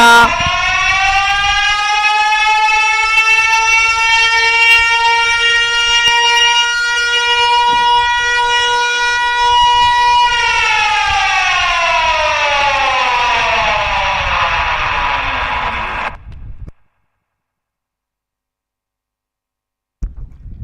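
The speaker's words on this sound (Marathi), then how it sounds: "भोंगा वाजवला जातोय" A loud siren sounds at an ox-cart race event, holding a steady tone for about ten seconds before its pitch slides downward and cuts off into silence, followed by a brief sound at the very end.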